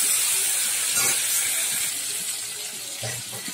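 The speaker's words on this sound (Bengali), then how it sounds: "ফোড়নটা ভেজে নিয়েছি, এর মধ্যে দিয়ে দিচ্ছি কেটে রাখা টমেটো কুচি" Chopped tomatoes drop into hot oil tempered with cumin seeds and a bay leaf, setting off a loud, steady sizzling hiss with a few soft clatters of stirring.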